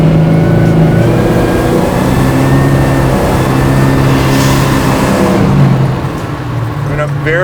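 A 1000 HP supercharged LS9 engine in a Chevy Colorado ZR1 truck drones loudly and accelerates with a strong low growl and rising whine, easing off near the end.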